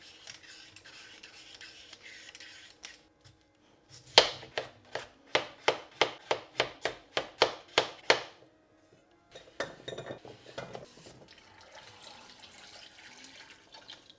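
Potatoes are chopped on a cutting board in a steady run of about a dozen crisp knife strokes, close and distinct, with faint kitchen clatter and a brief rustle before and after.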